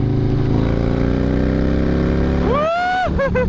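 A motorcycle fitted with an S&S 128ci engine kit rides by with a loud, steady engine roar, its pitch shifting upward near the end as the throttle changes.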